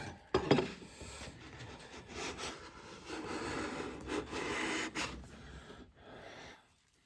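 A Wood River 5 1/2 jack plane takes a fine shaving from a board of 5/4 white oak, making a sharp clack and then a long, soft rasping hiss as it strokes along the wood. The sound is fairly quiet and close, with no speech.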